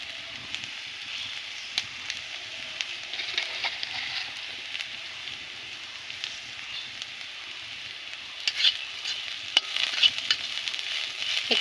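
Moringa leaves and nigella seeds fry in a pan, giving a steady soft sizzle as they are stirred, with occasional scraping clicks near the end and no talking.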